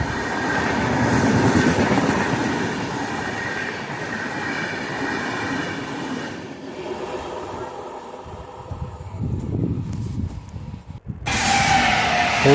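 The Chennai Rajdhani Express roars close past while overtaking, a loud rushing rumble of wheels and carriages with rhythmic clatter that fades midway, then surges again with a sharp burst near the end.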